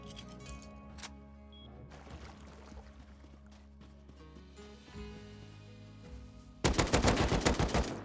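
AK rifle fire in the survival game Rust comes as a loud burst of rapid shots near the end, after a quieter stretch of ambient game sound and faint movement.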